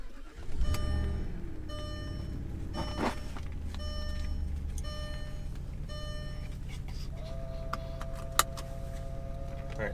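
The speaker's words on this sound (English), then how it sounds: "let's start this bad boy up." An Audi A8 engine cranks and catches near the start, then settles into a steady low idle. Repeated dashboard chime tones sound over it, and a brief electronic beep comes near the end.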